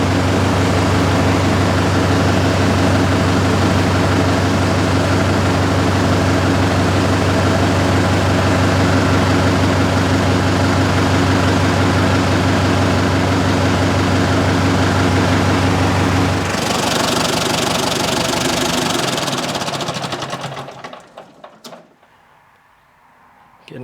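A Deutz 6006 tractor engine drones steadily at a low pitch, loud and close, then fades and cuts out near the end.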